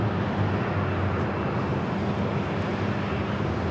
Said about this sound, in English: coming in from Minneapolis on the A321